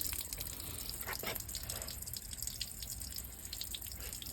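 Water trickles and drips steadily from a basement drainage point, a faint continuous splashing with occasional brighter drips and no talk.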